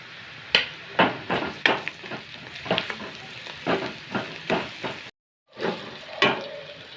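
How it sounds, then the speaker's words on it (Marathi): Chopped onion sautés in a pan while a spoon stirs it in a steady rhythm of scraping strokes over a constant low sizzle, with one brief gap near the end. "कांदा थोडासा गुलाबी होईपर्यंत परतून घेऊया"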